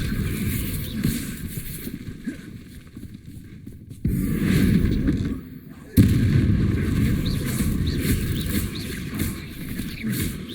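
Bombarda explosion spell in the Hogwarts Legacy video game, two sudden low booming blasts a couple of seconds apart amid dense rumbling combat noise.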